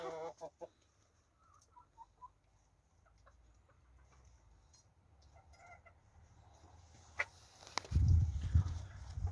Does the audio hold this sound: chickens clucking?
yes